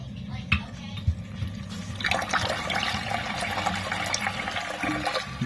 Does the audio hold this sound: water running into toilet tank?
yes